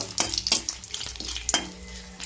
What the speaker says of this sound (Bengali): আর একদম সামান্য এক টুকরো দারুচিনি আর এক পিস তেজপাতা ফোড়নে দিলাম ফোড়নটা ভালো করে ভেজে নেব